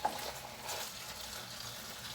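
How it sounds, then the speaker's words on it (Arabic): Chicken fries in a pan while being stirred, giving a soft, steady sizzle with faint scraping, quiet and close with no talking. "نحرك مزيان، نقلي هذا الدجاج"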